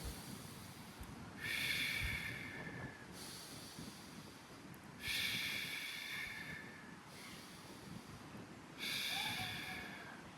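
Three slow, deep breaths sound close to the mic, each a long airy inhale of a second or two, with quiet gaps between them and faint room noise throughout.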